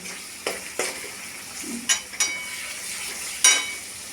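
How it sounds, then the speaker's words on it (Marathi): Onions and tomatoes with spices fry in a pan for a village-style prawn dish, a soft sizzle under sharp intermittent scrapes of stirring. "हे आपण चांगलंच 5-6 मिनटं थोडा वेळ तळू, कारण हे कांदे टमाट्याचा कच्चापणा निघून जाईल"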